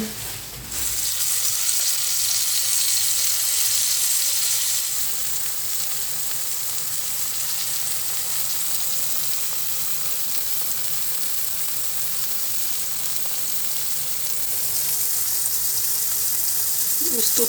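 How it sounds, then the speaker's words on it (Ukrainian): Steady, loud sizzling of liver frying in a hot pan, a continuous crackling hiss that carries on throughout with no one talking. "Ось зараз буду обвалювати борошні і смажити."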